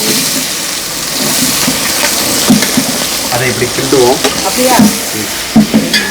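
Onions sizzle and crackle loudly in hot oil, with steady frying hiss and occasional stirring scrapes throughout.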